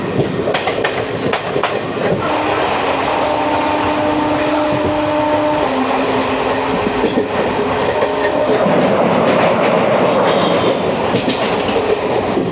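Inside a general coach of the old Maa Tara Express, the train rumbles and clatters loudly and continuously over the rails, with faint wheel squeals rising now and then.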